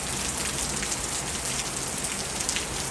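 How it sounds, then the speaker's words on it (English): Steady rain pours without break, a dense hissing wash of water that stays constant and fairly loud throughout, with no voices. "here comes the gutter rain"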